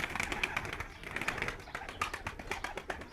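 Pigeons coo in a coop, with soft repeated calls from several birds layered over a steady rustling background.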